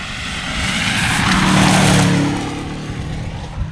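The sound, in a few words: two-wheel drive rally car passing on a stage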